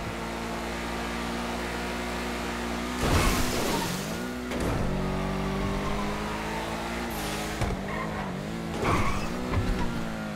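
A car in GTA Online drives with a steady engine drone, broken by several sharp tire squeals and skids, fairly distant and alone without talk.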